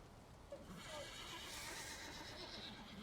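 A horse in the video game Valheim whinnies once, quietly, over a soft steady ambient bed, with a faint hint of hooves.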